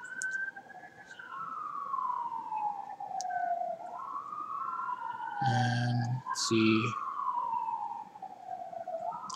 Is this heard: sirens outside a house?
yes